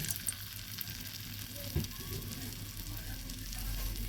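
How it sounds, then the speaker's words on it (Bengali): A small test drop of capsicum pakora batter frying in hot oil in a wok, giving a soft, steady sizzle with one brief splash, fairly faint and nearly alone. "পকোড়া ভাজার জন্য কড়াইতে তেল দিয়েছি তেলও গরম হয়েছে আমি সামান্য একটু দিয়ে দেখছি"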